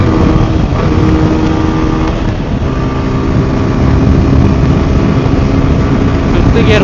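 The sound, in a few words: TVS Apache RTR 160 4V motorcycle engine accelerating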